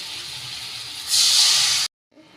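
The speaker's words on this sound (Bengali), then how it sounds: "এবার দিয়ে দেবো জল।" Water poured into a hot pan of fried spice paste with turmeric and salt bursts into a loud, sustained hiss of steam that swells, then cuts off abruptly, followed by a faint low residual sizzle.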